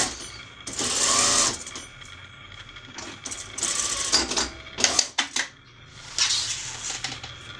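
A sewing machine stitching cotton curtain fabric in several bursts of rapid mechanical whirring, with clicks and handling clatter between runs, close and fairly loud.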